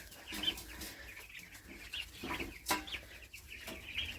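Three-week-old Big-6 turkey poults give soft, repeated clucks and peeping chirps, close but faint, scattered irregularly over quiet farm-shed background noise with no talking.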